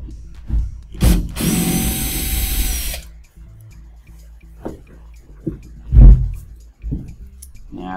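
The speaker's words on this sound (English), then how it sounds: "You can go ahead and undo that screw." A power screwdriver whirs in a short burst while undoing a screw on a DLP TV chassis during a repair, followed by scattered clicks and small handling knocks.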